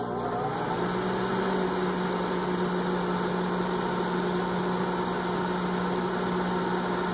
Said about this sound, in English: Then we're going to put it back in the microwave again.